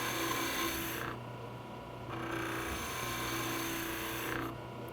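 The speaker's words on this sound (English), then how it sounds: "Now I'll use my skew chisel to shape this half of the bulb from my center line down towards the brass, just making light cuts" Skew chisel making light cuts on a wooden Christmas ornament spinning on a lathe, a low motor hum under soft scraping bursts that rise and fall as the blade touches and lifts off the wood.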